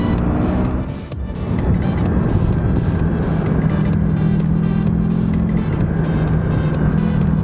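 A 1995 Pan European motorcycle rides onto the ring road, its engine a steady close drone with wind rush, holding an even level throughout after a brief dip near the start.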